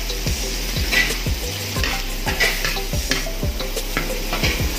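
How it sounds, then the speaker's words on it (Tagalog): Beef sautéing with garlic, onion and button mushrooms in a pan, a loud continuous sizzle broken by repeated scraping and clanking as the spatula stirs, close and without talk. "Oh, ito yung pagisa natin sa beef with mushroom."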